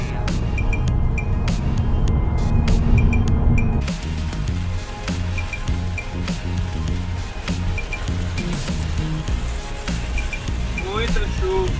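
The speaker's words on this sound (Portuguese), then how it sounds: "Muita chuva." Heavy rain heard from inside a car driving slowly on a highway crowded with trucks in the USA, a steady dense hiss and road rumble, with wiper thumps and tire noise.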